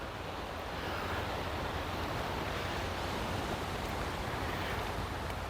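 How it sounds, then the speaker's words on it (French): Sea water surges through a rocky chasm on the coast at Castro-Urdiales, Spain, a steady roaring wash of surf with wind noise on the microphone, continuous and fairly loud throughout. "On entend l'eau. Il y a un passage pour l'eau."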